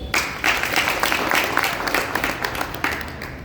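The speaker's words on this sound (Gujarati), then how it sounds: "આપણે એમને ખૂબ ખૂબ તાળીથી વધાવીશું" A tour group bursts into steady, dense applause for its helpers, many hands clapping together at close range for the whole stretch.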